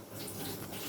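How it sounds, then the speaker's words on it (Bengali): Vinegar poured from a bottle into a pot of rice water for biryani makes a steady faint trickling splash lasting about a second. "এবার দেব আমি এখানে ভিনিগার, জলে"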